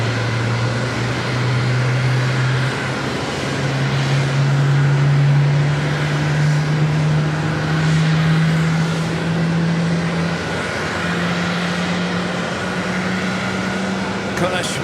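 An airliner taking off at JFK airport gives a steady, loud jet roar with a low droning hum underneath. The sound holds unbroken across the whole stretch.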